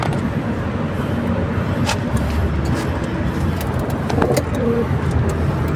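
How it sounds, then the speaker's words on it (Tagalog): Pigeons coo softly in a loft, mostly buried under a dense, steady hum of nearby road traffic, with a few faint clicks and flutters. "So ayan po yung ating mga kalapate."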